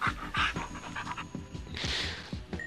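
Dog panting heard in the PS2 video game Gantz: rapid, rhythmic breathy pants repeating close and clear across the whole stretch, with a faint whimpering edge, no talk over it.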